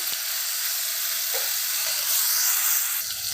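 Tomato frying in oil for vanga bhaji, a steady close sizzle with a bright hiss that holds throughout, lightly stirred, no voices.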